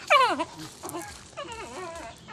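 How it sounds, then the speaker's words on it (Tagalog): A dog whimpers and yips in short, high, wavering cries, a loud burst at the start followed by softer whines. "Yung aso ko makulit oh."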